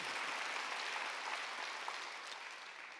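A Korean church congregation at a Wednesday worship service breaks into applause, a dense, even roar of many hands clapping together that tapers slightly.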